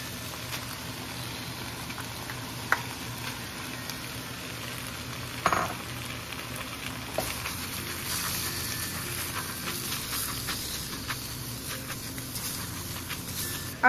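Chopped tomatoes dropping into a pan of sizzling pork menudo, a steady frying hiss with a few stirring clatters and scrapes, close up, no talking.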